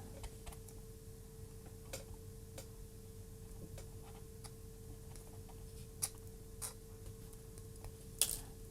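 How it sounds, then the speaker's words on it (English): Wire cutters trimming the soldered capacitor legs on a Sega Game Gear circuit board, a few quiet sharp snips spaced out against a low steady hum, with one louder clip near the end. "So now what we do is trim the legs off."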